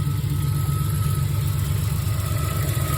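A Ford Ranger engine idling after sitting nine months, a steady close rumble with a faint fast ticking running through it, alone without talk.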